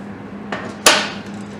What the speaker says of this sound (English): just give it a tap with a soft mallet